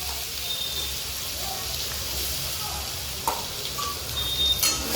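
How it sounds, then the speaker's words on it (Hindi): Mustard seeds and spices spluttering in hot oil for a wheat-flour masala dosa filling, a dense continuous crackling sizzle with a couple of brief sharp pops. "अच्छा से तड़कने देते हैं"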